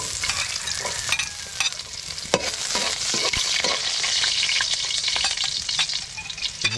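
Garlic sautés in hot cooking oil with a bright, continuous sizzle, punctuated by sharp pops and the scrape of a utensil stirring it, close and loud with no voices.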